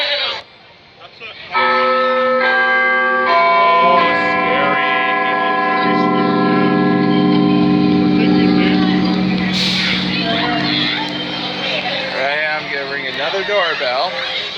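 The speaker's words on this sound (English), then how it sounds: "Another doorbell." A doorbell chimes with several sustained, ringing tones that overlap and hold for many seconds, loud and close, while people talk over the fading end.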